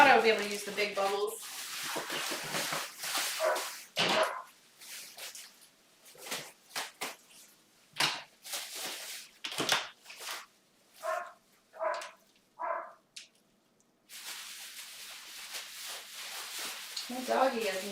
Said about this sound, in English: My doggy is not having it.